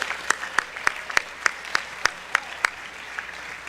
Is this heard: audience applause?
yes